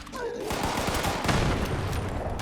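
Enemy bursting apart from a fireworks weapon in Fallout 76, a dense crackling barrage of rapid pops and bangs filling the whole short stretch, loud and continuous like a string of firecrackers.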